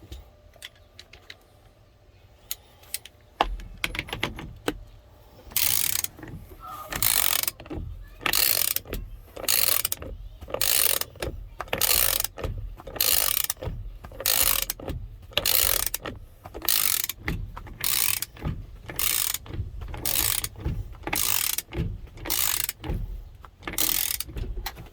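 Ratchet wrench tightening a nut on an early 1990s Ford turn signal switch: a rapid series of sharp, evenly spaced metallic clicks, close and fairly loud, running steadily for about twenty seconds after a brief quiet handling start.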